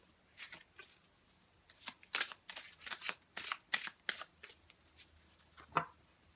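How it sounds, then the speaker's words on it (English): Tarot deck being shuffled by hand close up, with bursts of soft papery riffles and slaps in an irregular rhythm, quiet and with no voice. "I'm going to make sure I get a real good shuffle on these."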